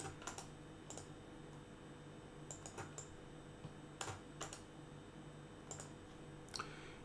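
Someone types on a computer keyboard in a quiet room, producing sparse clusters of faint, close keystroke clicks separated by pauses.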